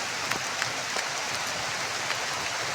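Heavy rain falls steadily in a broad, constant hiss with scattered drop taps, outdoors on a foggy day, with no voices over it.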